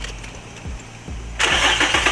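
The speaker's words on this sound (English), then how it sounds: "The car is not cold at all, but we're gonna start it up anyway" A warm car engine, recently treated with Seafoam, cranks in a few distinct starter pulses, then catches with a sudden loud roar and settles into a rough idle close by.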